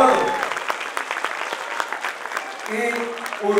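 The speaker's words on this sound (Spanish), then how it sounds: "Un aplauso de bienvenida, como se lo merece" A crowd at the opening of the III International Dance Festival in Samacá applauds to welcome international dance groups, with steady clapping under an announcer's voice and music-like tones toward the end.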